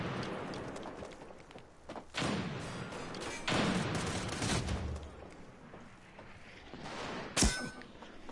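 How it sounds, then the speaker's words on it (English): Gunfire in a video game shooter comes as scattered shots and louder bursts over a murky background, with a sharp metallic crack near the end. "Why are they shooting each other?"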